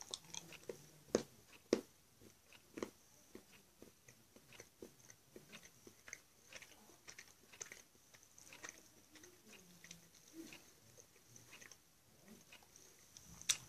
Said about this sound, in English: you can sit there and watch me eat a piece of chocolate now